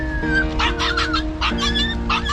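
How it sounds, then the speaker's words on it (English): A stray puppy whimpers in short, high, wavering whines, close by, a couple of bursts separated by a brief pause. "This hungry stray puppy wandered around all by himself along the dangerous train tracks"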